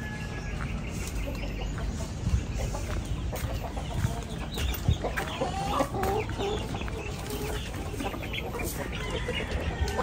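A flock of 30 imported D853 parent-stock breeder hens clucks steadily at feeding time, with dense overlapping calls, rustling and a faint rooster-like crow in a busy farm setting, no talk.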